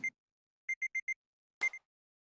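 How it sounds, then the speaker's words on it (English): An alarm clock rings in the video game Variable Barricade: four quick, evenly spaced electronic beeps, then a pause and a louder, longer ringing burst. The sound is clear and close, with no talking. "I leaned out of my bed to stop the ringing alarm clock."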